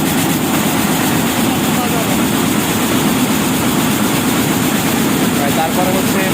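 A Jacquard weaving machine runs nonstop, a dense, loud mechanical roar with a steady low rumble and constant rattling that holds level throughout.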